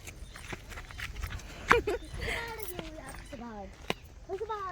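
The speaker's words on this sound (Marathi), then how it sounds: "मांजरांचा आवाज यायला का रायबा आधी येतो" Several short meows sound amid voices speaking nearby, with light footsteps and shuffling in the background.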